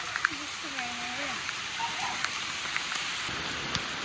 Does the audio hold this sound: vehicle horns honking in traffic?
no